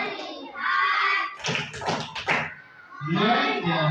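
Children clap their hands in a classroom focus clapping game, a burst of sharp overlapping claps in the middle set between stretches of children's voices.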